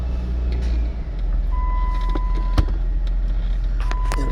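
A car engine running steadily after being started, a low continuous rumble close by with a faint electronic beep tone partway through and a brief click.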